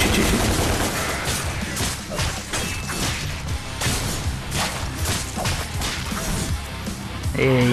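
Gunfire from the Devil May Cry video game, a dense barrage of rapid shots mixed with whooshes and impact crashes, loud and continuous throughout with game effects layered over it.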